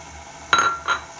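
An egg dropped into cheesecake batter in a mixing bowl, heard as two quick, bright clinks against the bowl's rim in close succession, near and clear over quiet surroundings.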